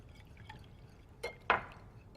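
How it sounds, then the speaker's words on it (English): Water, about a quarter cup, is poured into a bowl for an egg wash, heard as a couple of close, quiet splashes and drips against a soft background. "And some water. This is about 1/2 cup of water, 1/4 cup of water,"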